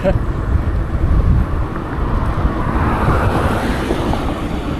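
Strong wind buffets the microphone while riding a bike around an old landfill, a steady, low rumbling roar with gusts, continuing throughout with no other clear sounds.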